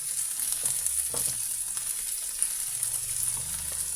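Okra frying in a pan with chili powder just added, a steady close sizzle and crackle running throughout with faint stirring scrapes, no talking.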